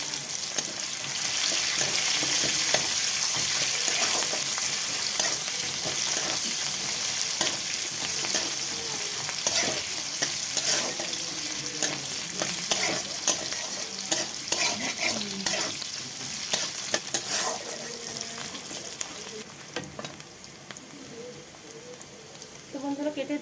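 Chopped onions with whole-spice tempering and dried red chillies frying in hot oil for a Bengali dish, a loud continuous crackling sizzle broken by frequent spatula scrapes and stirs, with a voice faintly heard at times.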